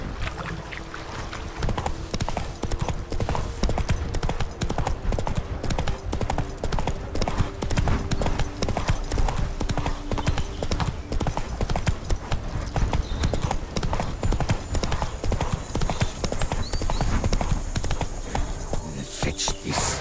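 Hooves of the horse Roach in The Witcher 3 video game, heard as a loud, continuous rhythmic clip-clop of a riding horse, its quick, even beats running throughout.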